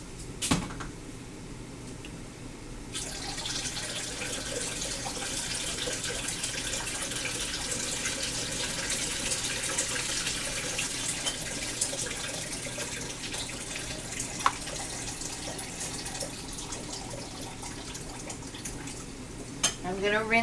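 Tap water runs steadily into a sink while cucumbers for bread and butter pickles are drained, a continuous close splashing stream with a few clinks of dishes near the end.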